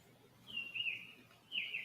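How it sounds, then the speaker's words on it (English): Two short bursts of high bird chirping from nesting birds under a deck, faint and somewhat distant, against a quiet outdoor background. "now we have some birds here in this video underneath the deck"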